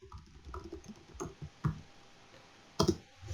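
Typing on a computer keyboard while entering text into a database field, a handful of separate clicky keystrokes spaced irregularly, close and fairly soft, with no talking.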